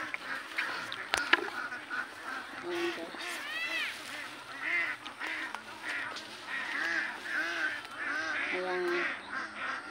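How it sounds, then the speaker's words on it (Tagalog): Ducks quack and honk steadily in the background outdoors on a farm while a person talks quietly over them. "Maraming itik dito"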